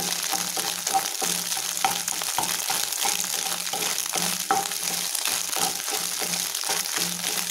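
Egg fry (muttai poriyal) cooks on a high flame, a loud continuous sizzle in the pan with repeated stirring scrapes and light knocks throughout, no one speaking.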